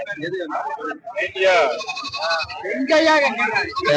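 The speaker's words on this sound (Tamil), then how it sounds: "ஒரு ஆடு ரெண்டு குட்டி ஆடு இருக்கு" Goats and young kids bleating repeatedly at a busy Saturday livestock market in Rettiyarpatti, loud and close, with traders talking over and between the calls.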